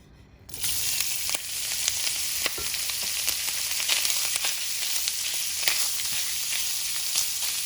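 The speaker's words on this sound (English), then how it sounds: "We are going to allow our sausage to brown evenly on each side" Sausage browning in a frying pan bursts into a loud, steady sizzle after a quiet moment, crackling and spitting evenly for several seconds with occasional faint stirring taps.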